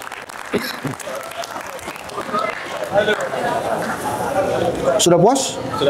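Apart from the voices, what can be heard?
audience applause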